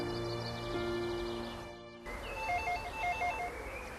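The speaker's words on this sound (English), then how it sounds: "I think I hear a phone ringing." After a brief drop in the background, a telephone rings with repeated electronic trills, clear but not loud.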